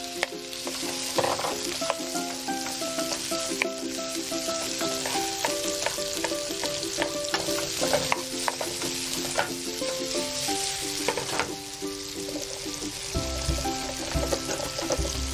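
Red bell pepper fries with a steady sizzle in a hot pan, with occasional scraping and stirring clatter, continuous and close, no talking.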